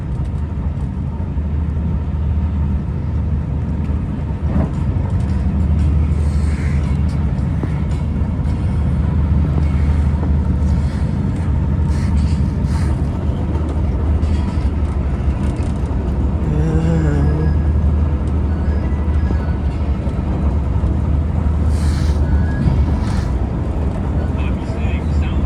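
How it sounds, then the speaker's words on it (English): A steady, loud rumble of a southbound Caltrain express train running through San Carlos station, heard from on board with continuous rolling noise and no break for the whole stretch. "Here we are expressing through San Carlos Station, and we're about to be meeting up with Caltrain 519 soon."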